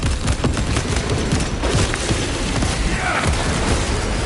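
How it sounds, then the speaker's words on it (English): In the Space Marine 2 video game, a frag grenade blast sounds within continuous loud, dense gunfire and rumbling booms, with no pauses for the whole stretch. "Throwing frag grenade."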